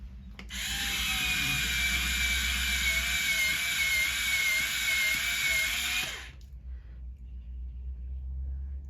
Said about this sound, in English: it's a very good electric pencil sharpener